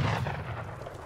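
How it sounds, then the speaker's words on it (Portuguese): Cannons firing in the strategy video game Age of Empires 3, a dense low rumbling boom with a heavy opening blast that rolls on steadily, loud and with no talk over it. "Os canhões aqui atirando em você, ó."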